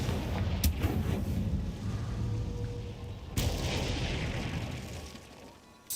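Confringo fire spell explosions in Hogwarts Legacy, two sharp, loud blasts a few seconds apart, each trailing off into a rumbling combat din.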